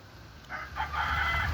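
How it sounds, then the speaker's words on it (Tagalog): A red rooster crows on a backyard farm, one rising cock-a-doodle-doo, moderately near against faint outdoor background noise. "pula nga manok."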